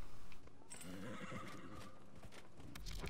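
A horse whinnies in a video game, a loud neigh at the start followed by busy clip-clop hoofbeats and game noise, close and continuous for a few seconds.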